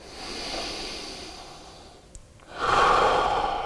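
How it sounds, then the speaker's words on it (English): Breathing of someone holding a plank during a no-equipment bodyweight workout, soft steady breaths that swell into a louder, hissing exhale near the end. "Couple breaths here."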